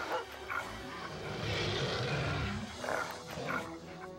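A bear roars and snarls while fighting a dog in a 2000 film, with barking and growling mixed into a continuous, loud, chaotic struggle.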